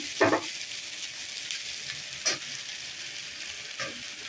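Fish head, likely rui, sizzles steadily in a pan with ginger paste and ground cumin and coriander for a bitter gourd and potato chochchori. A constant close hiss carries three brief stirring scrapes.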